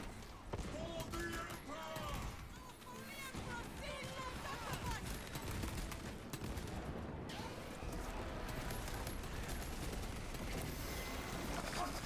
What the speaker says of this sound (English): Small arms fire. It sounds close.